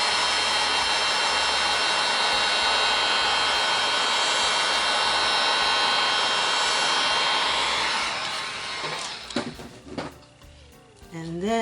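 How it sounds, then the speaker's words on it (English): A heat tool, such as a heat gun or hair dryer, blows a steady, loud airy whoosh while warming resin. After about eight seconds the hiss fades, and clattering handling sounds and a voice follow. "so I am going to just heat this resin."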